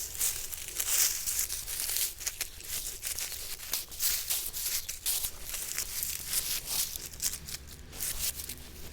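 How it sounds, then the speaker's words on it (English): Garden plants are cut back to the main crown with shears, giving a steady stream of close, crisp snips and rustling, crinkling leaves. "I'm going to cut all of it back, kind of to the main crown of the plant"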